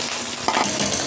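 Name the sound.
rice added and stirred in a frying wok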